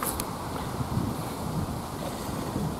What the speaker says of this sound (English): Bloody windy today.